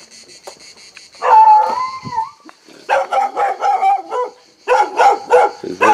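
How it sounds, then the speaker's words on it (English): Several dogs in a house in Italy bark and yip in repeated close bursts, with whines and brief pauses between volleys. "These are the dogs."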